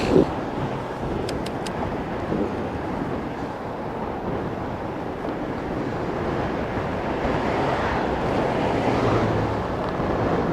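Steady, loud wind roars across the microphone during a rainy e-bike ride at about 30 mph, a continuous broadband rush with gusts swelling toward the end.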